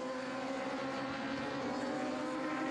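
Superbike racing motorcycles, a Ducati among them, roar around Brands Hatch during a 2014 British Superbike race, heard as a dense, steady, distant engine drone with no distinct pass-by.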